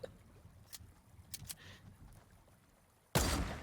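Sniper rifle gunshots in Fortnite, several sharp cracks spaced irregularly through the stretch, followed by a sudden louder burst of noisy blast at the end.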